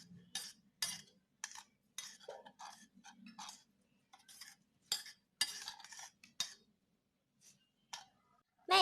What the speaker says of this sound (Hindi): अब हम इसे अच्छी तरह से मिक्स कर लेंगे।